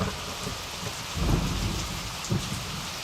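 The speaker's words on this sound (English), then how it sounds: "we hear this like radio static sample along with the gentle falling of rain" Gentle rain falls steadily, used as a sample in a song alongside crackling radio static, with a soft low rumble swelling midway and a brief thump near the end.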